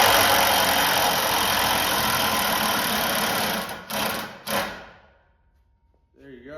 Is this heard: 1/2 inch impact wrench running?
yes